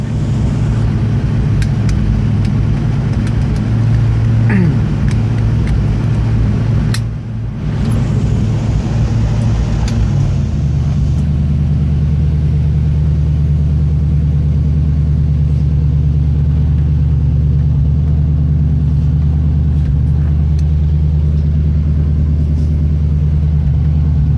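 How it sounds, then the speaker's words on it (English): A loud, deep 1969 Ford Mustang fastback engine with glass pack exhaust and no mufflers idles steadily nearby, its low throaty drone dropping to a lower, even hum partway through; no voices. "Loud car. It has glass packs only, no mufflers."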